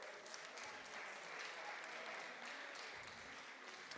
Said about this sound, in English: John Crispin, please, round of applause.